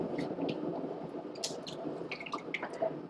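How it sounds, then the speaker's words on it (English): Brown and white goat fiber pressed down into a basin of water, giving soft close squishes, drips and small liquid gurgles in an irregular, quiet rhythm with no talking. "I'll press this into the water and open up the fibers."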